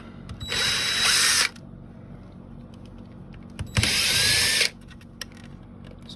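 A power screwdriver backs screws out of a Nissan dashboard during touch-screen removal, with two loud, close whirring bursts of about a second each separated by a quiet pause.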